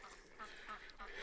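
Guard geese kept at home honk and quack loudly at close range in a rapid, overlapping burst, with a little background noise.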